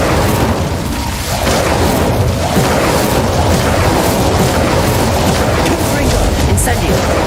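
Continuous barrage of fiery spell explosions from Confringo and Bombarda in Hogwarts Legacy, dense overlapping booms and crackling bursts forming a loud, unbroken roar with spoken voices mixed in.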